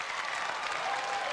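Basketball crowd at a 2001 Pike Central versus Pikeville boys' high school game roaring and applauding after a turnover, a dense, steady wash of clapping and cheering filling the gym.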